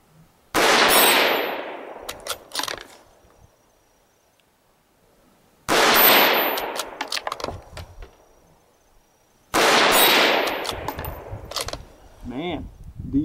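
Three loud, sharp reports from a Tikka T1X rifle in 17 HMR, fired about four seconds apart outdoors, each ringing out and fading with clinks after it, followed by a person talking.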